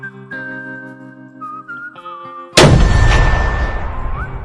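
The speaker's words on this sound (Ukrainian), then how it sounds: "Романтичну тишу порушив мінометний вибух" Steady whistling tones are cut off by a sudden loud mortar blast that rings out and slowly decays.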